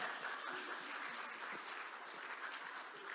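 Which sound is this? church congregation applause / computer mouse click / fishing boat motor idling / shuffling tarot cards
church congregation applause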